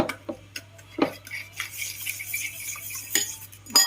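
A utensil stirs sugar into a pumpkin custard mixture in a pot to dissolve it. Close, faint scraping and clinking taps come in an irregular rhythm over a quiet hum.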